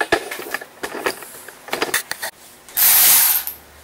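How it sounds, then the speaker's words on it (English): A Milwaukee ratchet backing 8 mm bolts off a small engine, heard as several short bursts of rapid clicking spaced irregularly, ending with a longer, louder whirring run. "Alright, so we're going to start pulling off these bolts."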